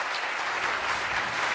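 An audience at the M-Phone global launch event claps in a dense, continuous round of applause, a bright, even patter sustained throughout at moderate volume.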